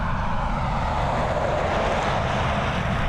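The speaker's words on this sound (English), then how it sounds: "we've got a Boeing 737 now, ready for departure" Steady, broad roar of a Boeing 737 jet at Dublin Airport, a loud continuous engine rumble with a wash of higher hiss that holds level throughout, no voices.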